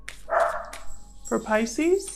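Dogs bark indoors in a short burst of several loud yips and woofs, reacting to someone outside, with a voice talking over and between the barks.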